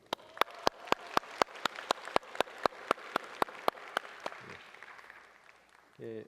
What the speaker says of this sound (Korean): 우리 또 환영의 박수.